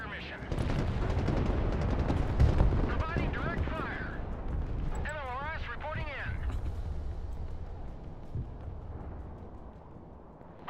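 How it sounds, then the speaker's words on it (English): Rocket artillery from an MLRS launcher in the modern-warfare strategy game Broken Arrow rumbles and crackles heavily and steadily, layered under clipped radio-style unit voice lines. "MLRS ready. Send fire mission."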